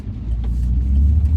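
A car pulls away on the road, its engine a steady, loud low rumble that holds throughout with no voices.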